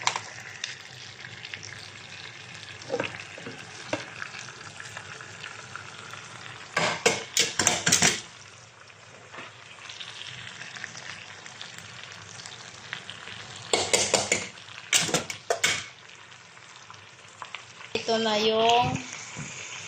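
Rice for Arabic chicken rice sizzles steadily in a hot pan, broken by repeated bursts of scraping as it is stirred, close and moderately loud, with no talking.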